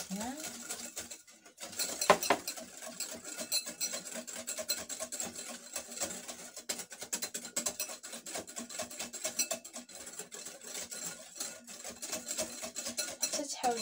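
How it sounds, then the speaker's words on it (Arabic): Eggs and sugar being mixed in a bowl for a layered cream cake, clinking and scraping of a utensil against the bowl in quick repeated strokes, close by. "غادي نخلط البيض والسنيده كتشوفوا"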